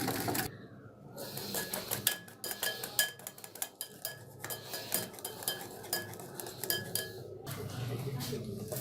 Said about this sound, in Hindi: इसको हमने मिक्स करते रहना है विस्क की मदद से।